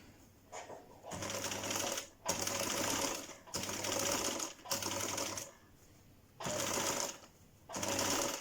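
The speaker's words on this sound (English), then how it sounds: "I'm just going to be stitching on the pocket bag side, and I'm stitching all the seam allowance here" Sewing machine understitching the seam allowance onto a trouser pocket bag, running in close, steady bursts of about one to two seconds with brief pauses between them, a fairly loud mechanical whir with no talking.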